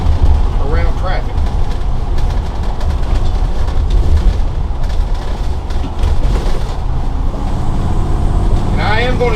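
A 2016 Fleetwood Flair 26D small Class A motorhome with a 362 hp engine cruising on an interstate, giving a steady, loud rumble of road and wind noise with a low drone throughout and a brief whine near the end.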